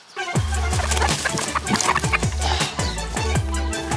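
Several hens cluck busily and repeatedly nearby on a farm in Northland, New Zealand, their short clucks overlapping in a lively, steady stream.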